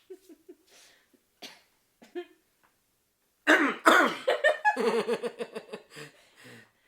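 Throat clearing and short coughs at first, then a burst of loud, spluttering laughing coughs that trail off into giggles.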